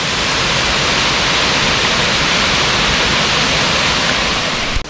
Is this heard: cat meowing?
no